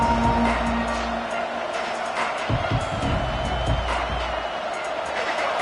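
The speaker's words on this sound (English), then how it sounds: "This crowd bringing an ear-splitting welcome to their visitors" Dense, steady crowd roar filling a college football stadium in the College Football 26 video game, loud and continuous with swelling cheers throughout, broadcast-style ambience around a play.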